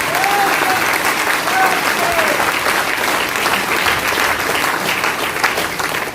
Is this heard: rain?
no